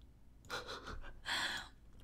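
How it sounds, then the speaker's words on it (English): A female Sims character in The Sims 3 lets out a big yawn, two drawn breathy vocal bursts separated by a short pause, close and fairly loud over a quiet game background. "That was a big ass yawn"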